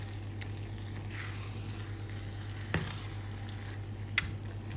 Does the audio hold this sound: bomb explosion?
no